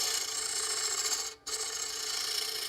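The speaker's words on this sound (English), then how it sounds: "we're going to go make another cove cut, and that pretty much lays out this rosette" A woodturning tool cutting a cove into a spinning wooden rosette on a lathe gives a steady, hissing rasp. It drops out for a moment partway through, then resumes, close and moderately quiet, with no voices.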